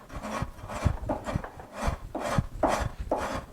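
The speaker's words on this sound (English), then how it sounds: "a rasp is definitely a two-handed tool" A wood rasp files a wood sculpture in quick back-and-forth strokes, about eight coarse rasping passes in a steady rhythm, close-up and alone.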